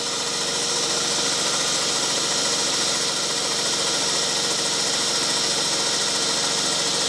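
A bargain airless paint sprayer pumps water through its lines to purge air bubbles for fencing work, giving a steady, loud motorized hum with a constant mechanical drone and no pauses or voices.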